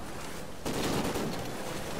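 A light machine gun fires in Call of Duty: Ghosts, opening with a sudden loud burst after a moment of noise and continuing as dense rapid automatic fire close up.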